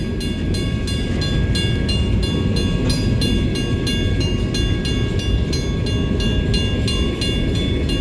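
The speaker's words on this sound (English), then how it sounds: "we want to see the train" A CSX freight train rolls past steadily on the Loop Creek Branch at Thurmond, West Virginia, with a loud continuous rumble and regular clicking of wheels over rail joints, no voices.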